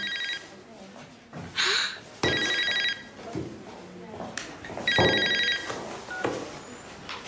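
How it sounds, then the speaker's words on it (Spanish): A telephone rings in three bright, trilling bursts separated by pauses, with people talking and other room sounds in between. "Claro, va a sonar el teléfono"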